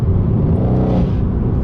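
Mercedes C63 S with over 700 horsepower, its engine giving a loud, deep, steady rumbling drone close by, without any speech.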